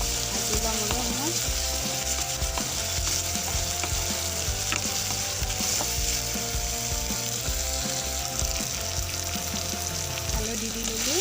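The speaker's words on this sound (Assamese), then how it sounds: "ভাজি ল'ম অলপ সময়।" Eggplant curry ingredients, including curry leaves, ginger, garlic and peanuts, fry in a pan with a steady, loud sizzle that runs throughout, broken by occasional stirring clatters.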